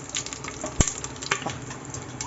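Whole spices dropped into hot oil for soybean biryani give a short, soft sizzle with a sharp clink of a utensil partway through and faint scraping, with no one talking.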